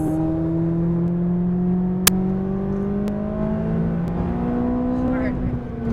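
A McLaren 570S accelerating hard on a race track, a loud steady engine drone rising smoothly in pitch from inside the car, with a voice talking over it.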